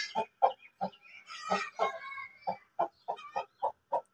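A hen of a pure Pakistani breed clucks close by in a steady series of short, evenly spaced clucks with a brief squawk in the middle, and no voices.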